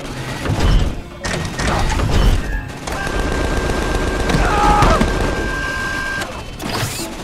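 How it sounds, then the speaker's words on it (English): Bursts of rapid video game gunfire in Borderlands, dense automatic shots with thumps and impacts over several seconds, punctuated by brief pauses and a sustained electronic tone. "Please stop shooting me."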